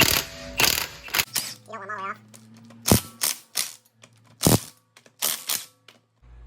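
A 19 mm wrench ratchets loudly and rhythmically while loosening the front wheel lug nuts on a 2014 Ford Explorer Sport, with sharp clicking strokes, short pauses and a brief squeal between them.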